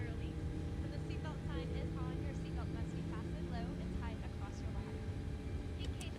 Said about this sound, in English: Engine 1 started. Engine 1's good.